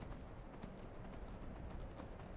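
Steady horse hooves clip-clopping in Skyrim, a continuous even rhythm of close hoofbeats with no talking.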